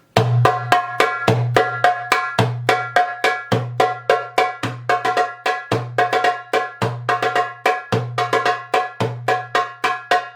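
Darbuka playing a quick repeating pattern of deep bass dum strokes and bright ringing tek and ka taps, loud and close, with no talking.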